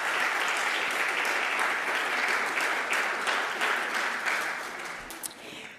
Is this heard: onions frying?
no